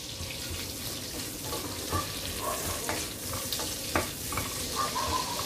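Ingredients fry in a pan with bay leaves, giving a continuous crackling sizzle broken by occasional stirring clinks and scrapes, close up and fairly quiet, with no one talking.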